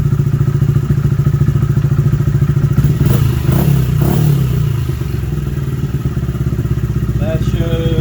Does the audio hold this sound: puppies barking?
no